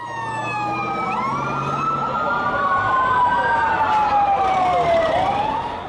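Loud emergency vehicle sirens at a chemical factory fire in Iztapalapa, Mexico City: overlapping wailing tones rise and fall nearby over steady traffic rumble, continuous throughout.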